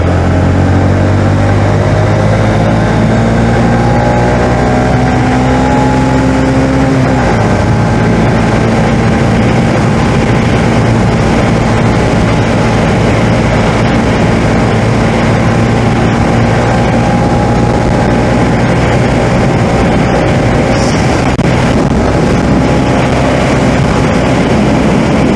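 A motorbike accelerating hard, loud and continuous, its engine drone rising in pitch then dropping at a gear change before climbing again, with steady wind rush throughout and no talking.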